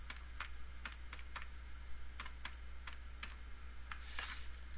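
Numbers typed into a calculator or keyboard, a quick, uneven series of about a dozen sharp, close key clicks over a low steady hum.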